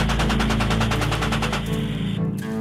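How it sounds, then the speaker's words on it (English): A rapid, loud burst of automatic gunfire on a battlefield, evenly spaced shots in quick succession for about two seconds before cutting off. "Firing."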